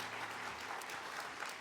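Church congregation applauding during a Sunday worship service, a steady wash of many hands clapping without pause, moderately distant and even in loudness.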